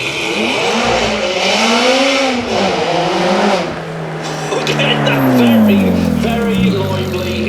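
A Ferrari Scuderia Spider 16M with a 4.3 litre V8 revs loudly at a supercar weekend event, pitch climbing and falling in repeated swells, with people talking over it.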